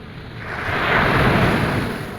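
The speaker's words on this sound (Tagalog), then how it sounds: "Salubungin namin yung alon" A wave surges onto the beach at La Union, rising to a broad roaring wash that peaks midway and then recedes, close by and with wind noise on the microphone.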